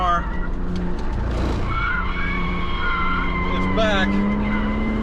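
A BMW on a race track revs hard, its engine note climbing and holding loud and close with a tire squeal mixed in, while someone speaks briefly over it.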